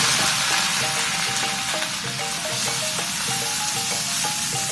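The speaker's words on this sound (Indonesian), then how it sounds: "Ini teri yang sudah matang. Sudah kita giling tadi dengan cabai," Anchovies ground with chili sizzle and fry steadily in oil in a wok, a dense continuous hiss with faint clinks of stirring throughout, close and loud with no voices.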